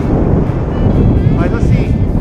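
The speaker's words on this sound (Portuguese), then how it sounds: "Nossa, que vento, cara. Tá gelado." Strong, cold outdoor wind buffets the microphone with a loud, constant low rumble, and a person speaks faintly beneath the roar.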